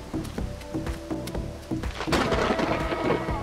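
Thunder from a lightning strike rumbles loudly with sharp cracks and a dense roll that builds toward the end, with no speech.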